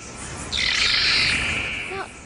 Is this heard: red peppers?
no